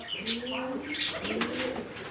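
Soft, rolling pigeon coos repeat several times at moderate distance, with faint chirps mixed in.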